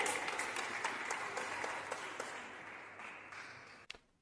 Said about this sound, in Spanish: aplaudan todo lo que quieran